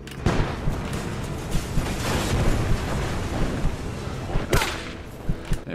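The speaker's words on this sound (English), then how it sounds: "No stone can withstand the force of dynamite." Dynamite explosions in the video game Kona boom and rumble in a dense, rolling wash of blasts, with several sharp bursts punctuating a loud, continuous roar.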